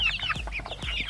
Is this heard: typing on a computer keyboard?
no